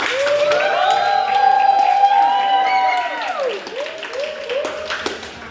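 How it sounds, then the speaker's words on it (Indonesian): An audience at a speech competition on local wisdom breaks into applause and cheering with a whoop, loud at first, then thinning out over a few seconds as voices mix in. "kalian tuh tepuk tangannya mana?"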